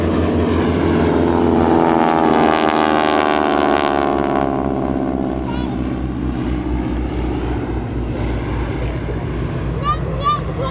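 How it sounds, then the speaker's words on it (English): A formation of T-6 Texan propeller trainers makes a flat fingertip pass at an airshow, a loud droning radial roar rising and sweeping past, then fading, with a commentator talking over it. "This is a flat fingertip formation pass."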